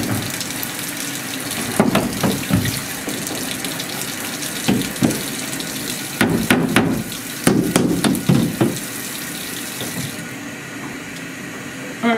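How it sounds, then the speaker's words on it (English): Running tap water splashing into a darkroom chemistry tray as it is rinsed inside and out, a steady rushing flow broken by several sharp knocks and clatters of the tray against the sink. "I'm going to also rinse the tray a couple times on the inside and outside."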